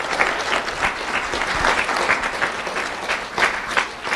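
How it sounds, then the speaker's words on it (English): A seated audience at a sheriff's office community event applauds a civilian support unit, sustained dense clapping that stays loud and even from start to finish. "let's have a round of applause for our civilian support unit"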